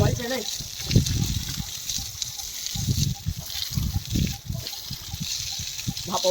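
Water is poured over a buffalo outdoors, a steady rushing and splashing running the whole time beneath someone talking loudly nearby.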